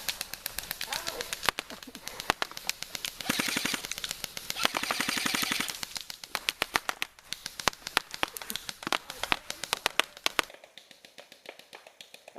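Airsoft guns, including a Cyma CM030 pistol, a Galaxy MP5K and a G&G M4, fire in rapid repeated bursts of sharp close cracks for about ten seconds, with brief voices mixed in before the shots stop.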